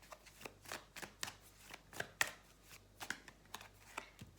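Tarot cards being shuffled by hand, a run of quick soft riffling bursts and flicks with a few sharper snaps, close and fairly quiet, no talking.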